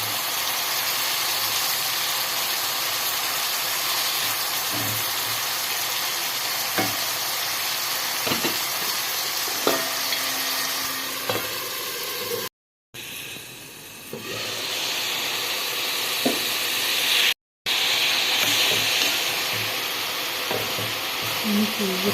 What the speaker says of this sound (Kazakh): Ет әдемі піскенше қуырып аламыз.